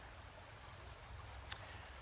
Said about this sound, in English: This is the forest and creek behind my childhood home.